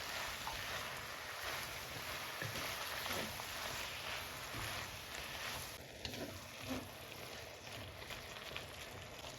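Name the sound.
mixing tomatoes into frying potatoes and fenugreek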